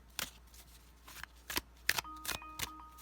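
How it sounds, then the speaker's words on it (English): Tarot cards being shuffled by hand, several quick riffling bursts in an irregular rhythm, close but fairly quiet. "And I'm being guided to shuffle again."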